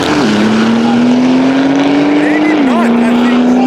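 Loud, steady engine drone from a BMW drag car converted from twin turbo to a single turbo at a drag strip, holding a constant pitch with a brief rise and a dip near the end.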